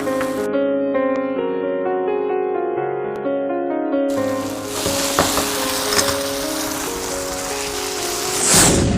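Tomato puree hits a hot pan for a paneer mutter dish, bursting into a loud, steady, crackling sizzle after a sustained musical tone ends, close and continuous to the end.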